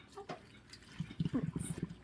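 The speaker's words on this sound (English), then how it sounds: "my next task then is to take the hot water and fill it up to" Hot water is poured into a canning jar while squash is being canned, giving faint gurgling, dripping and splashing sounds that grow busier toward the end, close by and quiet.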